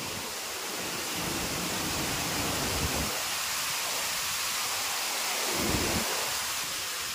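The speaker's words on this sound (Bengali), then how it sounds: "বৃষ্টি পড়ছে।" Heavy, steady rain pouring down near a waterfall in Khagrachhari district, a constant hiss with no voices.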